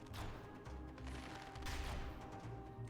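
The Gilded Yumi bow fires rapidly in a video game, a quick run of sharp shots in an uneven burst over a few seconds with no talk.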